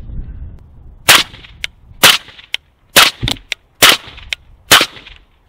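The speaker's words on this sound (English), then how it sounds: "All right, got a few rounds here." Suppressed gunshots from a Bushmaster ACR fitted with an AAC M4-2000 silencer: six sharp, loud cracks spaced about a second apart, each with a brief tail, one followed quickly by a second shot.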